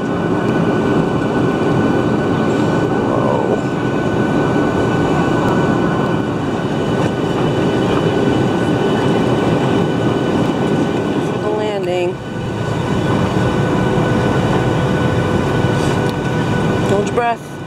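A loud, constant roar of jet engines fills an airplane cabin during a bumpy descent, with brief rattles and shifts in the drone; people talk faintly beneath the noise.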